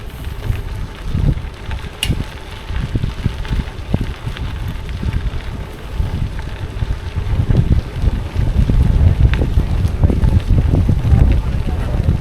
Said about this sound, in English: Quite a headwind.